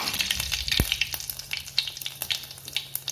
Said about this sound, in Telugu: కొంచెం జీలకర్ర వేసుకుందాము. ఒక చిన్న ఎండుమిరపకాయ వేద్దాము.